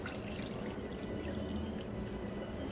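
Water poured from a cup into a pot of little millet and vegetables for khichdi, a steady continuous pour running close and evenly through the whole stretch with no talk.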